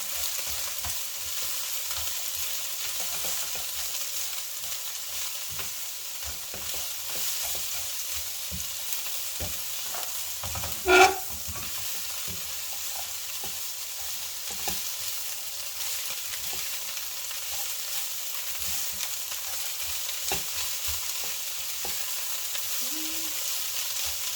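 Vegetables, three or four kinds including celery, sizzle in a hot pan as they are stir-fried, a steady close frying hiss throughout with one brief louder clatter midway.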